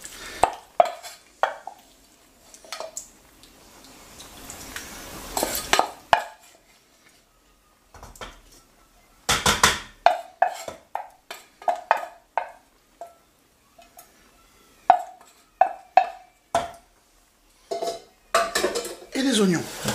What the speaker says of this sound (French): Je vais ajouter les petites carottes.